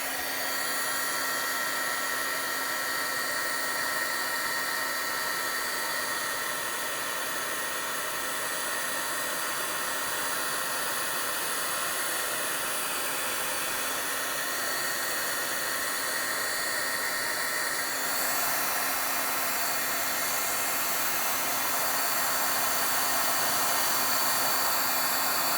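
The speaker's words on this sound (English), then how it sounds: "Or you can take your heat tool to it" A heat tool blows over embossing powder on a handmade card, a loud, continuous, airy whoosh like a hair dryer that holds steady for a long stretch, with a slight shift in tone near the end.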